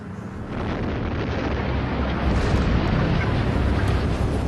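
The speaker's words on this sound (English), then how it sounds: "It's called explosion welding." An explosion set off more than half a mile underground for explosion welding produces a heavy, sustained roar and rumble that fills the whole moment, loud and broadband without a clean single crack.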